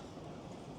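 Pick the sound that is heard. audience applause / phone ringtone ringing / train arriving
train arriving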